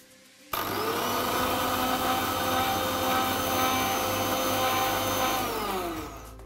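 A mixer grinder starts abruptly and grinds lentils with fennel seeds, asafoetida and spices, giving a loud, steady, close whirring roar that holds for about six seconds before starting to wind down, with no talk over it.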